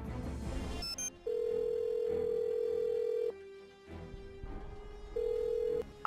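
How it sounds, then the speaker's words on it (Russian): A telephone rings when calling Ned Nickerson in a Nancy Drew game: three long steady electronic ring tones separated by short pauses, loud and clean, following a brief burst of game clatter at the start. "А теперь звоним Неду Никерсону."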